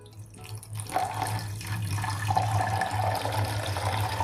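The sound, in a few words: pouring water into pan with bitter gourd pieces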